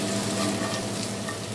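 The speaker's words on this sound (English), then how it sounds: "I'm going to use that to make little crispy lardons, getting as much of the oils out of it as possible and getting a nice crispy result." Pork belly lardons and kipfler potatoes fry in a pan with a dense, continuous close sizzle and crackle, steady and loud throughout the short stretch.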